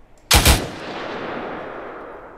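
A single loud gunshot during a military field training exercise, a sharp close blast followed by a long rolling echo that fades over about two seconds.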